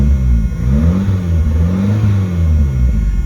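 A 1982 Honda Prelude engine runs with rattles, its loud close idle rising and falling in gentle revs over a low rumble, with no voices.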